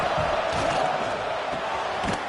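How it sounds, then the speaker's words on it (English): In the College Football 26 video game, a stadium crowd roars steadily with dense, continuous cheering and shouts, loud and unbroken, as the home fans rally the defense in the red zone. "the crowd coming to life here, trying to help this defense down in the red zone"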